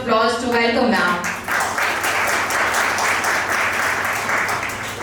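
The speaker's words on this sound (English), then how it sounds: "I request you all of you to give a big round of applause to welcome ma'am" An audience at a national seminar on intellectual property rights applauds to welcome the chief speaker, steady loud clapping that continues throughout after a brief spoken voice at the start.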